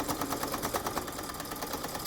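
A sewing machine top stitches the bottom edge of a fabric face mask, running with a steady rapid needle chatter at a moderate level for about two seconds, with no talk.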